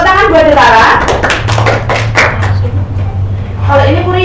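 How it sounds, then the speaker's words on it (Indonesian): Classroom clapping for a student named Detara in a primary school microteaching lesson, a quick series of sharp claps from a small group, with a teacher's voice at the start and end and a low hum underneath. "Tepuk tangan buat Detara."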